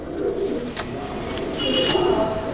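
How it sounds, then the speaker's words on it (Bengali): Abluk Madrasi pigeons cooing close by in a loft, soft low throaty coos repeating over a steady background murmur, with a few faint higher bird chirps mixed in. "এটা আবলুক পায়রা কিন্তু অ্যাকচুয়ালি এটা আবলুক পায়রা"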